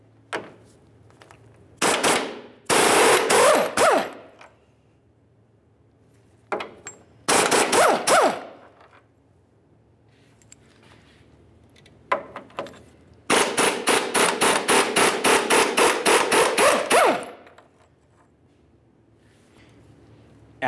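An impact wrench hammers out 21 mm bolts from a lower control arm bracket on the frame of a 2002-2007 Chevrolet, in several loud rattling bursts of rapid blows separated by quiet gaps, close and alone.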